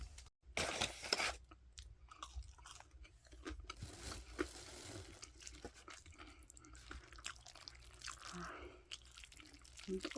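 Close, crunchy chewing and biting of food after a cheat day, with wet mouth sounds repeating steadily throughout, plus occasional clinks; no talking.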